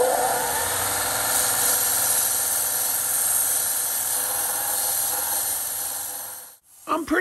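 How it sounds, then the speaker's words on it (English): A belt sander runs steadily while it spins and grinds a metal rod being shaped into a carburetor stud, a constant loud whirring drone that cuts off abruptly near the end. "let the belt sander run and spin this rod and slowly move it down"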